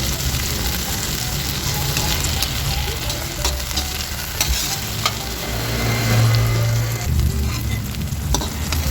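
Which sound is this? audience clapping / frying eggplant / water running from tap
frying eggplant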